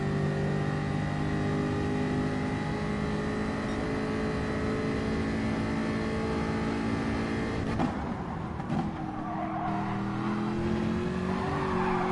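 Race car at Bathurst in a sim racing game, a loud, steady engine drone with tire squeal as the car slides, then a sudden shift as the engine note drops and changes.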